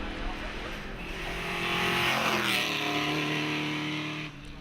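A 4.7-litre Shelby Mustang races up the Shelsley Walsh hillclimb, its loud V8 roar building steadily as the car storms away, engine note swelling and then easing near the end, with commentary running over it.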